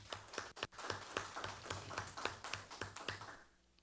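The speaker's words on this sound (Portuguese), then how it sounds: "são dignos de aplausos" Applause at a plenary committee meeting, a modest scattering of hand claps from a small group, close and fairly quiet, tapering off toward the end.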